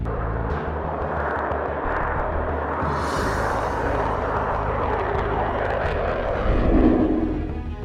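Military jets, F-35 fighters and B-52 bombers, fly overhead with a sustained broad engine roar that rumbles low throughout, swelling louder near the end as one passes close.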